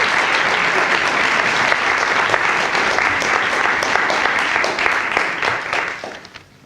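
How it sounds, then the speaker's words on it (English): Loud, sustained applause from an audience at a community event announcing an after-school grant, a dense even patter of many hands that holds steady and then fades at the end. "Give her a nice round of applause."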